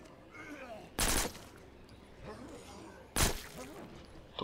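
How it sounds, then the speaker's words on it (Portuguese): Two loud, sharp gunshots from a Glock pistol in the video game State of Decay: Lifeline crack out about two seconds apart over quiet game ambience. "Já chegamos aqui já como distribuindo tiro."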